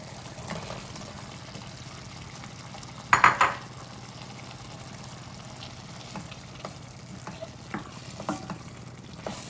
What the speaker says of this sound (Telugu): సో ఇందులో ఇప్పుడు మనం పన్నీర్ పీసెస్ వేసుకుంటాం.